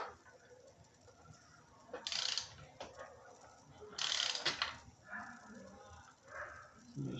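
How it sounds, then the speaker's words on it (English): A torque wrench ratchets in two short bursts while plenum bolts are tightened to crush the gasket on a 75mm throttle body and 5/16 plenum spacer install, with people talking throughout. "We are now torquing down the plenums to crush the gasket."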